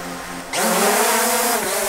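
An SJRC F22S budget camera drone spins up and lifts off, its motors jumping abruptly from quiet to a loud, steady high-pitched whine that holds as it rises and hovers close by.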